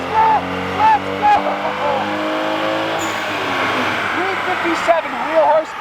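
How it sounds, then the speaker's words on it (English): A tuned car engine revving loud and sustained on a dyno, its pitch rising and falling, with voices talking over it. "So we're gonna do 3 dyno runs."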